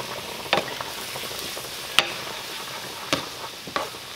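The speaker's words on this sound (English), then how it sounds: "Now I'm going to stir in the cream." A spoon stirs cream into simmering chicken gravy in a pan under a soft, steady sizzle, with a few sharp clicks of utensil against the pan spaced across the stretch; no one speaks.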